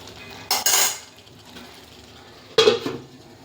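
A lid set down on a cooking pot of mutton being fried for a mushroom curry, two sharp metallic clanks about two seconds apart, with a faint low sizzle underneath.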